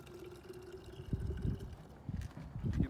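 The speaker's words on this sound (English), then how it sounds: "you can bet we're triple rinsing it" Water gurgles and splashes while a chlorophyll A sample bottle from a lake composite sample is rinsed, a soft close sloshing with a faint steady tone underneath.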